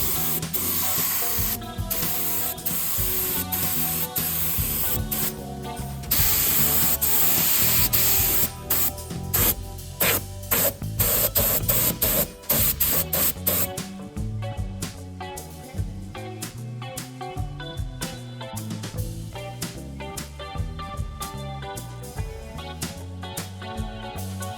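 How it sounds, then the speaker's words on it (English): A spray gun hisses steadily and loudly, close up, while painting masked-off touch-up areas on a car body, with brief breaks and sputters in the spray throughout a long continuous stretch, and no one talking. "Dad wanted to give a spray gun a test drive"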